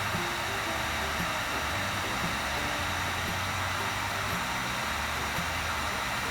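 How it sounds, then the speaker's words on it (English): A heat gun blowing into a pellet smoke tube, a loud, steady roaring hiss of hot air with a low motor hum, constant and close throughout. "I stick the old heat gun in here like so."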